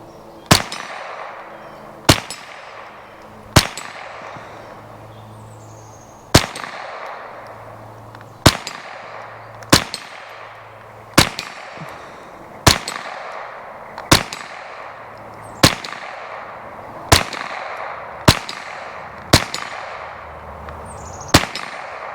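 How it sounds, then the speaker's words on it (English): A Marlin Model 60 rifle fires about fifteen sharp, evenly spaced shots at a 50-yard target outdoors, each crack loud and close with a short decaying echo, roughly one every second or two. "here we go, 14 more rounds at 50 yards"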